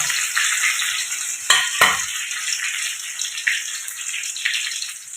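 Onions and garlic frying in a pan, giving a bright steady sizzle with a couple of sharp spatula scrapes and clanks near the start, heard close and without speech.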